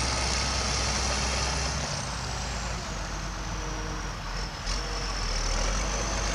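A 2000 Champion 720A motor grader drives slowly nearby, its steady diesel engine droning loudly and continuously throughout with a faint high whine and a brief dip midway.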